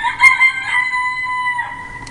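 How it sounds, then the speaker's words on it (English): A rooster crow plays as an alarm clock sound, one shrill, drawn-out cock-a-doodle-doo heard up close and loud on its own. "and you can choose a rooster,"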